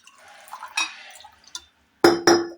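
About half a glass of liquid is poured into msemen dough: a soft, brief trickle and splash, then two sharp clunks close by, with no talk.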